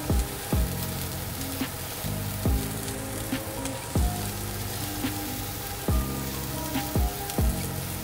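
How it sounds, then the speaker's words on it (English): Onions sear in a hot pan with a loud, constant sizzle and crackle close up. Periodic scraping strokes recur every second or so, and no voices are heard. "to make sure there's an even coating of just a nice sear on the onions"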